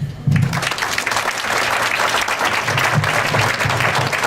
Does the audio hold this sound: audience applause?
yes